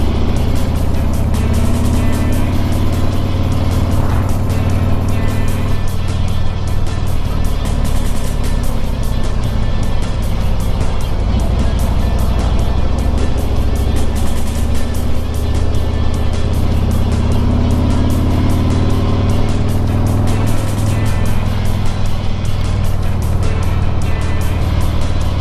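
A car's engine drones steadily in third gear while it winds down the twisting Tail of the Dragon mountain road, a loud, continuous rumble with wind and road noise throughout, rising and easing through the turns, no talking.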